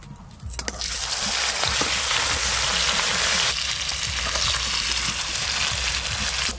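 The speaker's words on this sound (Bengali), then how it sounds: "এবার পনিরগুলো ভেজে নেব।" Paneer drops into hot butter and oil, bursting into a loud, dense sizzle after a brief quiet start and holding steady to the end, with faint stirring knocks underneath.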